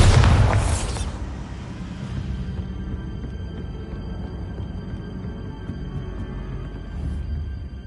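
A heavy Bombarda spell explosion in the Hogwarts Legacy video game opens with a loud, close boom, then fades into a low, lingering rumble.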